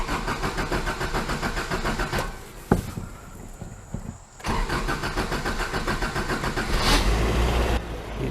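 A carbureted car engine cranking and catching, a rough rhythmic churn that briefly drops away, then fires and settles into a steady, close, loud running idle with a few revs, no speech.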